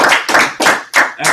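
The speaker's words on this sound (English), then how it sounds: "give her a round of applause" Audience applause at a classroom project presentation, a brief burst of several sharp rhythmic claps, close and loud.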